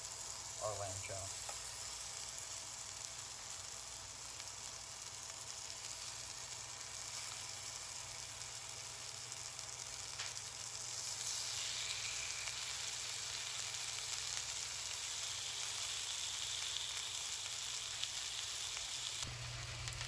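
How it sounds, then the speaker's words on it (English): Lamb chops sear in a pan held at 416 degrees, giving a steady, loud sizzle and crackle that runs without a break for the whole stretch, with no talking over it. "In a high heat pan, I have this one set to 416 degrees. We're going to sear our lamb chop."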